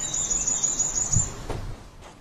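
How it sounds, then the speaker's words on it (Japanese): Birds chirp and tweet across a spring garden at a famous Japanese scenic estate in Saga, a steady high twittering over a soft breeze, with no one speaking. "爽やかな風と鳥のさえずりが聞こえる中"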